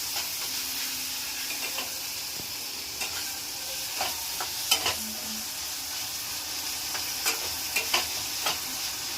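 Onion, tomato and green chilies frying with masala in a pan while making pithla give a steady soft sizzle, with scattered scraping stirs and spoon taps throughout and no talking.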